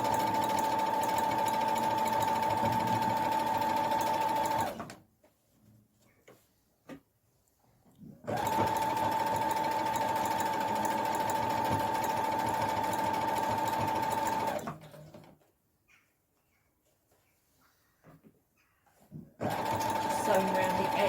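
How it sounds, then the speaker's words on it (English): Sewing machine stitching around the edge of a kids' tote bag, running in two long steady bursts with a pause between and starting again at the end, loud and close. "Sewing around the edge of the bag"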